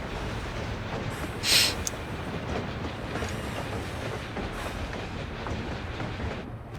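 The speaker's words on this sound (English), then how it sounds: "And off the train goes." A big, wide-gauge train in the video game Final Fantasy XIV pulls away with a steady low rumble and rolling wheel noise, plus a short bright hiss or squeal partway through, moderately quiet and without voices.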